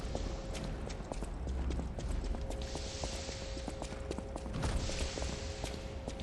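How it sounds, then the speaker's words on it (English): Footsteps in the video game Lies of P, heavy clip-clop-like steps repeating steadily over a constant background drone with occasional metallic clanks, fairly loud throughout with no talking. "I heard footsteps."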